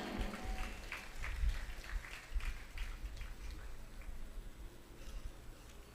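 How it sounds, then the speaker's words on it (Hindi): Steady applause from an audience at a university orientation program, continuous clapping lasting throughout, heard from a moderate distance with a faint murmur of voices. "बच्ची के लिए जोरदार तालियां हो जाएं।"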